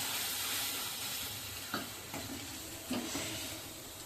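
Whole spices frying in a pan for Kolhapuri misal, a steady close sizzle with a few scraping stirs of the spoon cutting through, no voices.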